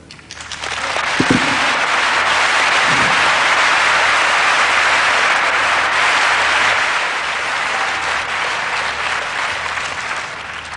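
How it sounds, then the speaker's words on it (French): A large congregation bursts into loud, sustained applause at a religious testimony gathering, the dense clapping swelling quickly and holding for many seconds before slowly easing. "Tous ces applaudissements"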